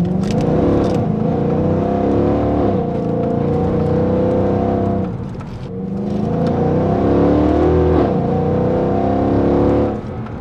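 A 2007 Mercedes E63 AMG with stage 2 long tube headers revving loudly up close, two long throaty engine swells that rise and hold, dip briefly between them, then climb again.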